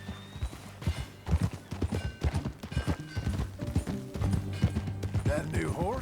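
Horse hooves clip-clop in a steady galloping rhythm while riding in Red Dead Redemption 2, close and fairly loud, with occasional whinnies, tack rattling and a light musical bed underneath.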